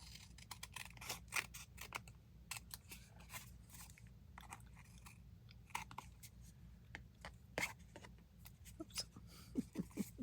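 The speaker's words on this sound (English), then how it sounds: "let's go ahead and trim this off" Scissors snip an index card in quick, crisp cuts, a close, quiet run of separate snips in an uneven rhythm with small pauses between them.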